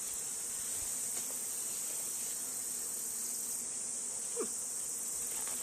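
Honeybees in an opened ranch hive hum in a dense, continuous high drone. The sound holds steady and near throughout, with a faint knock or two from hive work.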